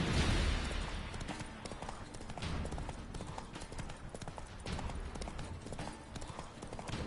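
Roach the horse galloping in The Witcher 3 video game, a fast, steady clip-clop of hooves running continuously at close range.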